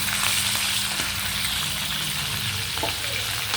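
Fried food sputters and spatters in hot oil as moringa leaves are cooked outdoors, a steady dense sizzle close by, with scattered crackles and pops.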